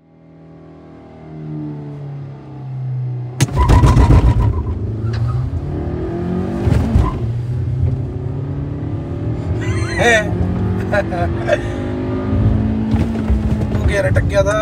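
A Tata Nexon and a Hyundai Creta launch side by side in a drag race. After a quiet idle, engines surge suddenly into loud revving roars that rise in pitch through the gears, close by, with voices talking over them.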